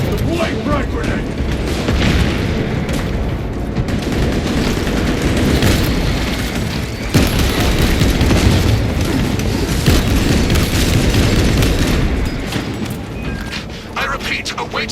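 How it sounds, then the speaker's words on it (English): A frag grenade blast and gunfire in Warhammer 40,000: Space Marine 2 make a loud, dense, sustained rumble of booms and shots that fills the whole stretch without a break. "Deploying frag grenade."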